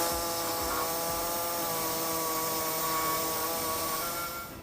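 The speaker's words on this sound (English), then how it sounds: "What I'll be using is a air saw to notch out the sides on the hole there" Pneumatic air saw notching the steel frame of a 2014 Ram 1500 pickup, a steady loud buzzing whine with a constant harmonic drone throughout, fading slightly at the very end.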